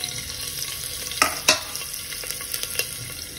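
Green chilies and ginger fry with whole spices in a pan as a soft, steady sizzle. A few sharp clinks and scrapes of a stirring spoon sound against the metal. No voices.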